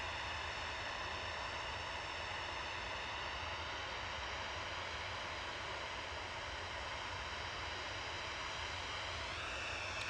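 Aircraft taxiing out at Manchester Airport, a steady broadband jet-engine roar with a whining tonal hum, continuous and fairly distant, unchanging over the stretch.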